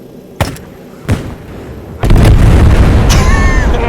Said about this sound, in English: Oh no, I gotta blow it up.